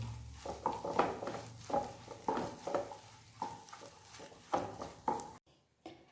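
Potli samosa filling with coriander leaves stirred in a pan: a spoon scrapes and knocks rhythmically against the metal over a soft sizzle, close and fairly quiet, before stopping abruptly.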